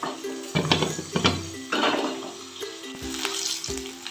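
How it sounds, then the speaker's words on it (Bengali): Tengra fish frying in mustard oil in a pan, a soft sizzle broken by several louder stirring and scraping bursts. "মাছগুলো ভাজা হয়ে গেছে"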